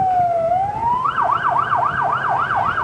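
An ambulance siren in a Christmas parade holds a steady tone, then switches to a rapid rising-and-falling wail, fairly close over background rumble.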